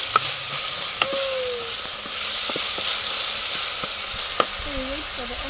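Onions and ginger fry in a pot with a steady, loud sizzle and hiss while a utensil stirs, giving occasional sharp scrapes and knocks, and distant voices are faintly heard.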